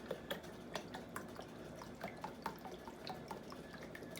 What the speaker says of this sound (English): I'm going to pour the beef broth into the bowl. Into the cup that's in the bowl.